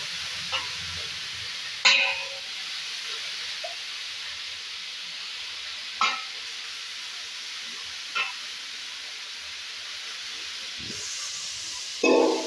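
Drained potatoes and bitter gourd with green chilies hiss and sizzle steadily in a hot pan, with a few sharp clattering drops and spoon knocks scattered over a dozen seconds.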